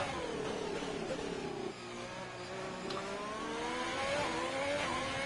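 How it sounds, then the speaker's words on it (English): Race car engine in a sim racing game at the Vietnamese GP, the revs swelling and falling repeatedly as the throttle is blipped off and on, moderately loud and continuous with no talk. "You hear him working that throttle. Off, on, off, on."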